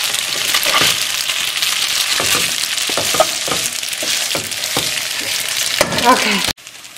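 Spaghetti carbonara pasta sizzles and fries steadily in a hot skillet, with scraping stirs and clinks throughout before cutting off abruptly near the end.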